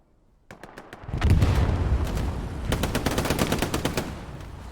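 Video game gunfire in a competitive match plays as rapid machine-gun bursts, loud and close, with a heavy rumbling boom underneath and sustained volleys of shots to the end.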